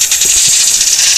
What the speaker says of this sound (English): The air compressor's here.